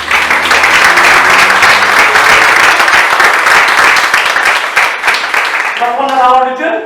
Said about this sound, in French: On peut acclamer Jésus ce matin.